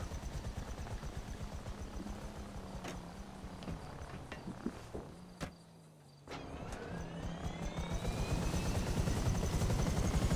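A steady video-game helicopter rotor drone with whirring engine noise, briefly dipping quieter midway before swelling back louder and continuous.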